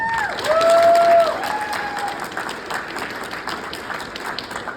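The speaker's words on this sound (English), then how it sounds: "So I want to give another round of applause to everybody here, everybody who is working towards this." Steady applause from a large audience at a youth entrepreneurship summit, loud and sustained, with a brief whistle-like tone early on over the dense clapping.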